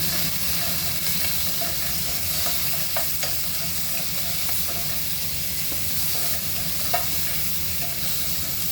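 Shrimp stir frying with garlic and ginger in a hot pan, a steady close sizzle with scattered spatula clinks and scrapes throughout.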